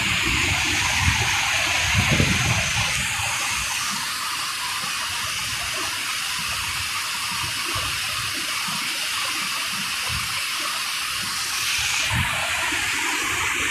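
Water rushes steadily outdoors as it drains away through a low channel in a scenic spot, a continuous close hiss and gurgle with no voices.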